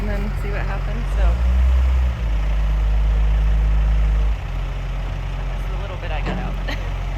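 A farm tractor engine idles with a heavy low rumble that swells loud for a few seconds midway and then settles back into a steady idle, with someone talking over it.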